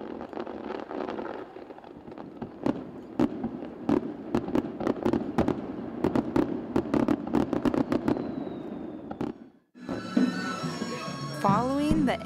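Fireworks boom and crack repeatedly over the river valley of Hita, Japan, during a night festival, as a rapid series of sharp bursts under a steady crowd murmur, ending with whistling, crackling shells.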